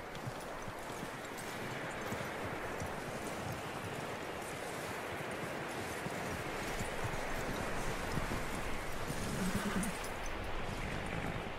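Horse hooves clop in a steady rhythm over a constant windy wash in the video game Red Dead Redemption 2, the footfalls continuing throughout.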